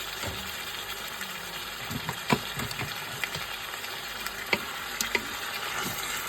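Beef stew ingredients sauté in a pan, giving a steady, moderately quiet sizzle broken by a few sharp pops and spatula scrapes.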